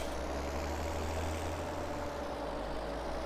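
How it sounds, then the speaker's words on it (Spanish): A tractor engine in Farming Simulator 2017 idles with a steady low rumble and drone, continuous and even, with no voices over it. "Madre mía, cómo suena este tractor"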